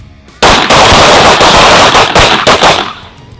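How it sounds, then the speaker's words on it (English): Rapid rifle and pistol gunfire during a tactical transition shooting drill, a loud, dense burst of closely spaced shots lasting nearly three seconds after a brief quiet start. "You shoot however many rounds you think you need to shoot."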